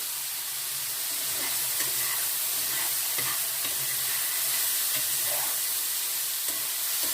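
Eggplant pieces fry steadily in a hot wok-like pan without extra oil, a continuous loud sizzle with occasional stirring scrapes and crackles throughout.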